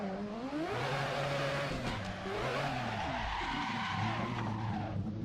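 Turbocharged car in the Assetto Corsa racing game drifting, the engine note rising and falling over steady, loud tire squeal and skidding, continuous and close throughout.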